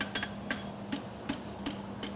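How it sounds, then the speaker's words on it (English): A farrier's hammer strikes a horseshoe in regular ringing blows, about one every 0.4 seconds, each a sharp metallic clang over a steady low background hum. "Running my hammer, narrowing it up,"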